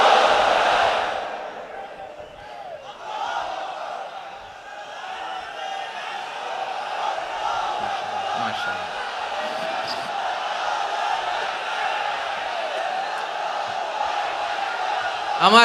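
A large crowd at a Bengali Islamic sermon gathering answers a preacher with takbir, chanting Allahu Akbar together in a long, loud, roaring swell that carries on steadily for many seconds.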